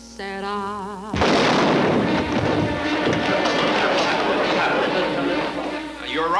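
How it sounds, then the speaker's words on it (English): A sudden loud gunshot-like blast bursts in from a Hitchcock film, cutting off a sung melody and leaving a long, dense, noisy wash of sound with commotion that lasts several seconds. "that was a gunshot you heard"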